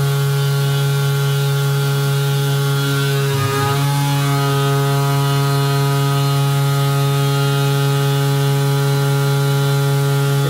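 A CNC mill spindle turns at a lower RPM, giving a loud, steady tonal hum with a brief shift in pitch partway through, continuous and close with no talk.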